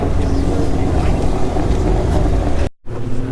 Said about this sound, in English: When the louder exhaust is coming in, because I wasn't expecting it.